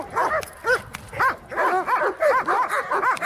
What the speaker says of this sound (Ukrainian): Канекорса нападает.